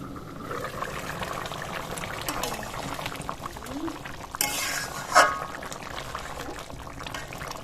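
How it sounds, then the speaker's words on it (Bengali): Fish curry broth bubbling in a pot, a soft steady simmer with low liquid gurgles and a brief clatter, faint voice nearby. "ঝোলটা ফুটে ফুটে অনেকটাই কমে গেছে"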